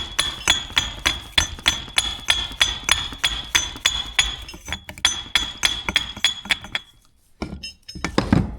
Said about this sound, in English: Claw hammer.